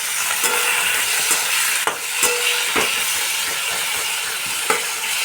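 Chopped tomatoes hit a pan of fried onions with cumin and coriander for a fish-head dal, giving a loud, continuous hissing sizzle broken by a few sharp clicks and spatters.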